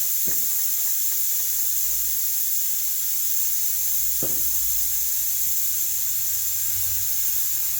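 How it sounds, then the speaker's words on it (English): A steady hiss of liquid spraying onto the inlet manifold of a 1961 Harley-Davidson FL Panhead engine runs throughout, with a couple of brief knocks and taps near the start and midway. "I'm going to start spraying the manifold, inlet manifold."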